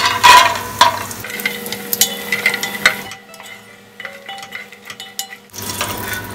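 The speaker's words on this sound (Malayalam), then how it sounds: "കുറച്ച് അണ്ടിപ്പരിപ്പ് ഒന്ന് വറുത്തെടുക്കാം." Cashew nuts frying in a pan of oil for a prawn biriyani, a steady crackling sizzle with stirring clinks, louder at first, dipping quiet midway, then returning.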